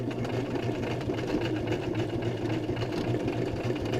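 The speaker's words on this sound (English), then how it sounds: "And the back stitching, and it's complete." A sewing machine stitching a fabric accordion-style face mask runs in a fast, steady mechanical rhythm, close and continuous for the whole stretch with no talking.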